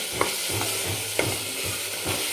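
Ginger, garlic and green chili paste frying in a pan for chicken biryani, with a steady broadband sizzle and a few sharp scraping clicks of a spatula stirring at intervals, close and unaccompanied by voices.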